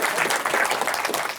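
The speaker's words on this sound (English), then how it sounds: "Give him a round of applause." Applause from the audience at a live Nuke 8 digital event, a dense steady patter of many hands clapping, filling the whole short moment with no voices.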